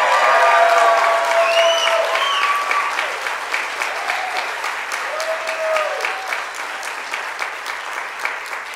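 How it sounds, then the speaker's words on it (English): A crowd applauds steadily, a dense wash of clapping that starts loud and eases slightly while continuing to the end. "One more round of applause as needed."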